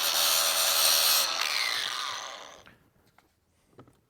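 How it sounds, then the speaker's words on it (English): Power tool cutting and sanding a metal e-bike bracket, a loud close grinding whine that winds down after about two and a half seconds, followed by faint clinks of handling. "this one, we're actually going to cut off because we're not going to use anymore"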